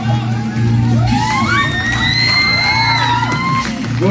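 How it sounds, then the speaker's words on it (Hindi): A large audience at a children's drama performance honouring soldiers before 26 January roars with loud, sustained cheering. Whoops and whistles rise and fall over the crowd noise, close and continuous. "जोरदार तालियां।"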